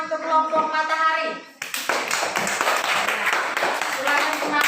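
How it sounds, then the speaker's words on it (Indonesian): Fourth-grade students in an Indonesian classroom break into brisk clapping after a brief bit of talk, the hands ringing out close and lively for several seconds. "Beri tepuk tangan untuk kelompok matahari."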